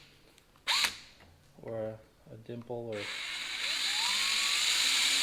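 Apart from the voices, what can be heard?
small drill bit drilling into a brass well check valve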